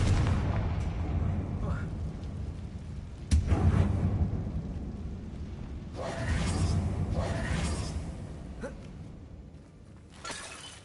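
A Confringo spell blasts inside an abandoned mine in the video game Hogwarts Legacy, a sudden loud boom with shattering debris that rumbles on over steady game ambience, with later swells of rumble and talk in the background.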